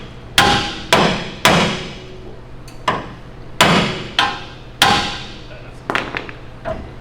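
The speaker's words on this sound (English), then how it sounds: "we're just gonna start smacking it with the hammer" A steel hammer strikes the upper control arm and spindle of a Toyota Tacoma during a lift install. There are about eight loud, ringing metallic blows at an uneven working rhythm, close to the listener, with a faint hum underneath.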